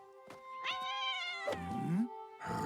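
Azrael, the cartoon cat from the Smurfs in an Estonian-dubbed episode, meows in several drawn-out, wavering cries with a low, sliding yowl near the end and no speech.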